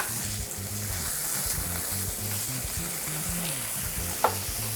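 Bacon frying until crispy in a pan, a steady close crackling sizzle with a soft rhythmic bubbling underneath and one brief sharp pop near the end, no talking.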